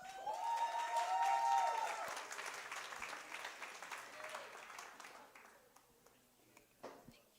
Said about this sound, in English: Another huge round of applause